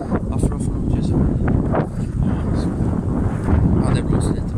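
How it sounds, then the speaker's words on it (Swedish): Steady, loud wind buffeting the microphone while riding a bicycle outdoors, a continuous low rumble with gusty swells and no break across the whole stretch. "det blåser lite men"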